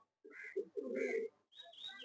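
Mail pigeons in a loft coo in a few soft, low bursts separated by short pauses, fairly close, with a higher chirping call near the end.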